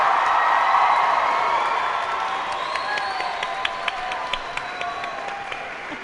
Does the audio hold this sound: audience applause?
yes